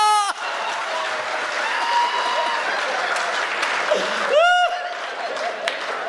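Audience applause at a satirical Hindi poetry and comedy gathering: a dense, steady wash of clapping fills the whole stretch, with brief tonal cries or whistles rising near the start and again midway.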